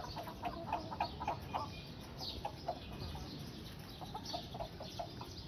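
Java breed chickens, a rooster among young lasani chicks in a home flock, giving scattered soft clucks and chirps at moderate distance over a steady faint background, with no talk.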